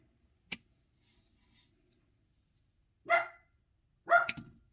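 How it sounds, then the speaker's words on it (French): A female dog barks happily indoors during plant cutting propagation, two short bursts of barking, moderately loud and close, after a sharp click from pruning shears. "La chienne qui aboie, super heureux."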